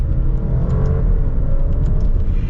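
An Alfa Romeo Stelvio SUV on the move, heard from inside as a steady loud low engine and road rumble with a constant whir, with no voices.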